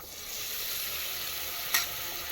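Chicken curry with masala frying in a pan gives a steady, close hiss of sizzling oil, with one brief scrape or clink of stirring near the end and no voices.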